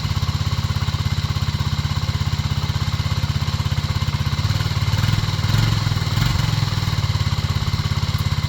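Suzuki Djebel 200 motorcycle engine idling nearby, a steady rapid single-cylinder putter with a brief rise in revs midway, loud and continuous with no talk.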